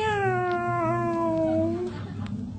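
A voice imitates a cat's meow during a comedic story, one long drawn-out falling meow lasting nearly two seconds, loud and close, then trailing into faint background noise.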